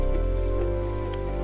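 Rain falls steadily in the video game Ark Survival Evolved, a continuous even patter on surfaces with no speech over it.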